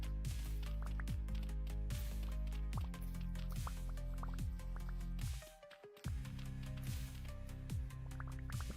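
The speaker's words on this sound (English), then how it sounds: "Is the water making that sound?" Water dripping in a swamp area of Vintage Story, a steady run of close, evenly spaced liquid plinks repeating about twice a second, with a brief lull near the middle before the pattern resumes.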